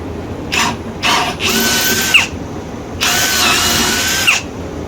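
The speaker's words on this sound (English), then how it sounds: "I'll drill these out just a little bit." A drill bit bores holes sized for a 1/4 inch tap, in loud bursts: two short runs, a longer one, then a sustained run, each stopping abruptly, in a workshop.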